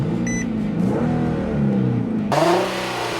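A 2015 Honda CR-V and Toyota RAV4 idle and rev together at a drag strip start, their engines droning steadily up close with rising and falling pitch, then surging louder near the end.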